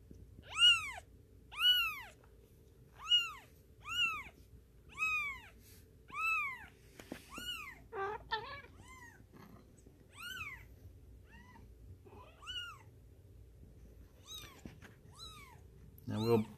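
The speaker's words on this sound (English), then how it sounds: "And when she gives that kind of meow, Shelby comes running." A cat meows repeatedly in clear, evenly spaced calls, loud and close at first, then fainter and more scattered toward the end.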